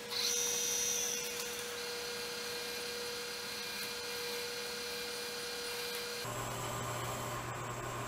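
Wood lathe spinning a chokecherry goblet blank while a skew chisel cuts it, giving a steady whirring drone with a sharper scraping bite near the start and a shift in tone toward the end.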